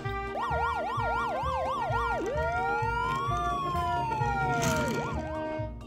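An electronic toy police car siren wails in rapid up-and-down warbles, then shifts to slower rising and falling tones, over a low rumbling hum.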